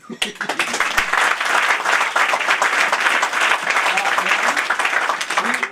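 Applause from a comedy show audience fills the room for several seconds, a dense, steady wash of many hands that rises quickly and holds strong throughout, with some crowd voices mixed in.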